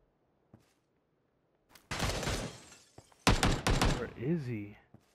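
Gunfire in PUBG, a couple of faint distant pops, then heavy crackling volleys of shots, with a voice speaking near the end.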